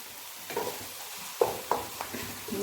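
Onion with garlic-ginger paste frying in a pan, with a soft steady sizzle under several sharp clinks and scrapes from stirring, close and fairly quiet, no voices.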